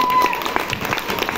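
An audience at a village comedy and mimicry stage show claps for a song, a short burst of dense, steady applause from a crowd, heard alone.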